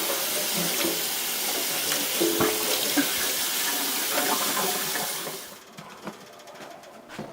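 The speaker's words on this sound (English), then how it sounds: "And then rinse the noodles in cold water." Cold tap water runs steadily into a sink, a loud hissing splash as noodles are rinsed, then the flow stops and faint clinks follow.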